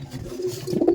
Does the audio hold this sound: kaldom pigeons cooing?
yes